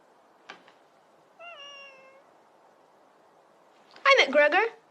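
A cat meows a few times nearby: a brief faint chirp, a drawn-out clear meow, then a louder, rougher meow at the end, with quiet room tone between.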